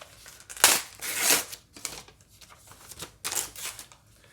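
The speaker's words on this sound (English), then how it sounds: "So I'm just going to unwrap it now and see what it says." A wrapped art print from a subscription box is unwrapped, with several close bursts of crinkling and tearing paper separated by short pauses.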